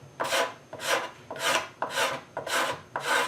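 A scraper blade pulls across hide glue on a wooden serpentine chest, six rhythmic raspy strokes about half a second apart, close and clear with nothing else heard.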